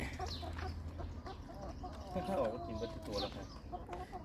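Chickens cluck repeatedly inside a coop on a farm in Thailand during a first feeding, a steady flock of busy clucks at close range, while people talk throughout.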